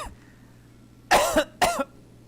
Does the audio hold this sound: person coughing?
yes